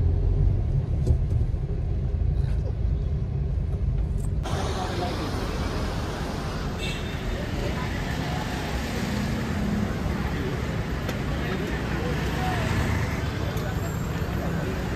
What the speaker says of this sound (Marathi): गोव्यामध्ये ना 31 मुळे इतकी ट्रॅफिक आहे ना सगळीकडे